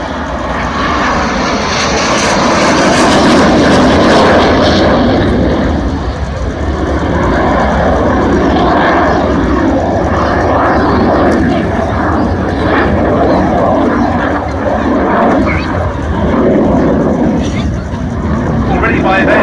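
A Hawker Hunter F6 jet with a Rolls-Royce Avon engine roars past at Shoreham Airshow, a loud sustained turbine rumble rising and easing over many seconds, with voices talking over it.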